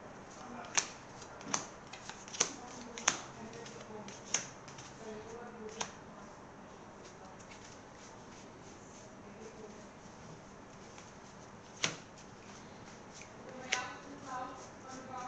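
Crystal Beast trading cards being handled and squared into neat piles: sparse, soft papery taps and flicks, a few sharper snaps spread across a quiet background.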